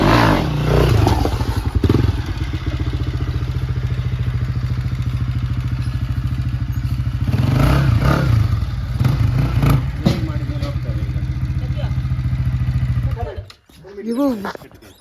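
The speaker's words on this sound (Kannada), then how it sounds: "ಬೈಕ್ ಲೋಡ್ ಮಾಡ್ತಿದ್ದಾರೆ ಹೇಗಂತ ನೋಡಿ ನೀವು" Motorcycles being loaded onto a vehicle the night before a trip: an engine idles and drones with clatter and thuds throughout, while people talk nearby. It ends with a brief quieter stretch.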